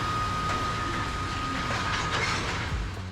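Georgia's old three-carriage passenger train running along the line, heard from on board as a loud, steady rumble of wheels on rails with rhythmic clatter and a faint high squeal.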